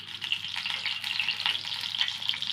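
Oil heating in a pan before lentils and cumin go in for a spiced raw banana stir-fry, a close, even, continuous crackling sizzle with no voices.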